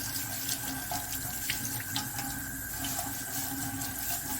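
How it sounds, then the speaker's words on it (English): A kitchen tap runs in a steady, close stream into a sink while potatoes are scrubbed clean, the flow constant with faint clinks and scrubbing under it. "the water's dripping out of here"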